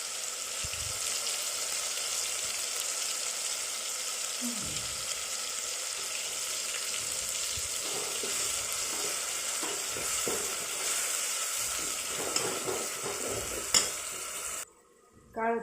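A garlic, ginger and coriander paste fries in a pan for an egg curry, a steady close sizzle with occasional scraping stirs and faint clinks, a brief lull near the end.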